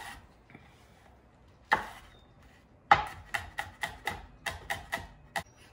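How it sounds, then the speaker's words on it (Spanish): Knife chopping serrano chile into small cubes on a cutting board for a chorizo breakfast, a single chop followed by a steady run of about ten crisp, evenly spaced cuts, close and clear with no talking. "vamos a picar el chile serrano en cuadritos también"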